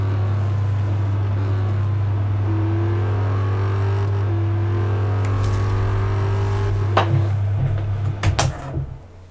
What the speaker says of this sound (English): some like popping noises coming out of this car